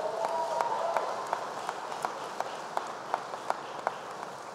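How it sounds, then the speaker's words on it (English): Audience applause for Representatives Andrew Crenshaw and Corrine Brown at an Armed Services thank-you event, a steady crowd wash with scattered sharper claps standing out, moderately loud and sustained with no talking over it. "Give them a big round of applause right here."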